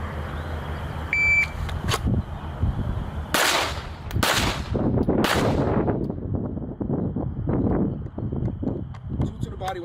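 Pistol shots from a failure drill ring out close and sharp, three quick bursts of loud cracks with echo, following a timer beep, while someone talks throughout.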